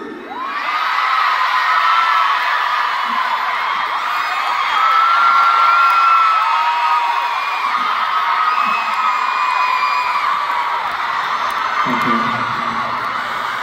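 A dense arena crowd at a concert in Oakland screams and cheers continuously at high volume, a shrill sustained roar of many voices that swells and lingers for the whole stretch.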